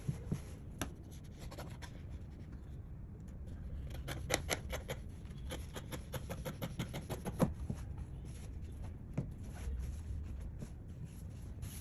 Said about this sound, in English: I will go ahead to cut it.